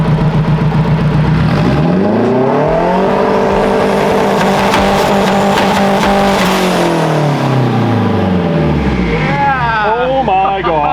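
Honda CRX with a K20 swap and anti-lag turbo revving hard, the engine note climbing and falling in a long loud sweep, followed by rapid crackling bursts near the end.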